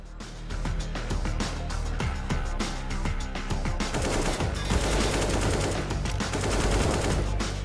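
Rapid automatic AK rifle fire in CS:GO during a BLAST Premier Spring Showdown match on Overpass, sustained dense bursts running nearly the whole time, loud and continuous with overlapping shots.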